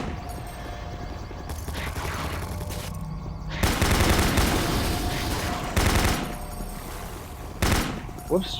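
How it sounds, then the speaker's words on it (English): In Doom 3, automatic gunfire rattles continuously against a turret, with dense, harsh bursts, metallic impacts and heavier booms swelling partway through, while a voice talks over parts of the barrage. "Whoops, shooting my own turret."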